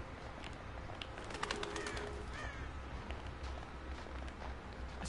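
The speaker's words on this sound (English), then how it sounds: "Crows, always a good sign." Crows cawing in a dark forest in the Until Dawn video game, a few rough caws rising faintly out of a low steady ambient bed.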